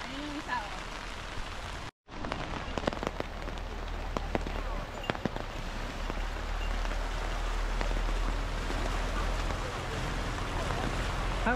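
Rain falls steadily at Kamikochi in Nagano's alpine valley by the Azusa River, a dense even hiss of drops with a brief break early on, then continuing unbroken.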